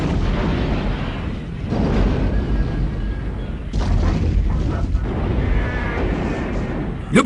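A building blows up in an animated Lupin the 3rd movie, a loud, sustained, roaring blast of rumbling booms that swells and surges for several seconds.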